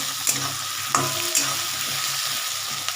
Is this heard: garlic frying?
yes